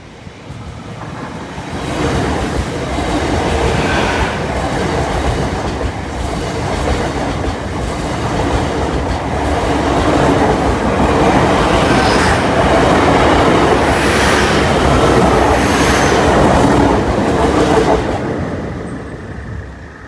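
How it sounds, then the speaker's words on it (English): A 10-car passenger train passes through Lincoln station, a loud, steady rumble with clattering wheels on the rails that builds and holds for about twenty seconds before easing off. No one speaks. "Here he is, another 10 car."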